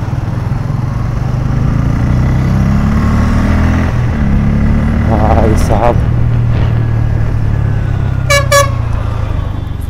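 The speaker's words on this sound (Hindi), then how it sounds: "फुल ट्रैफिक चल रहा है गाइस यहाँ पे।" Heavy city traffic moves bumper to bumper around a motorcycle rider, a constant engine rumble broken by several car horn toots and a sharp double honk near the end, with someone talking over it.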